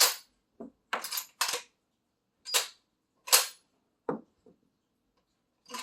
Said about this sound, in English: Got a couple of empties in here, showing how it will eject now.